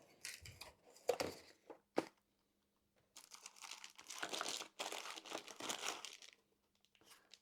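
Cardboard and plastic packaging from a Windows 11 laptop box crinkle, rustle and tear in close, quiet bursts separated by brief silent gaps.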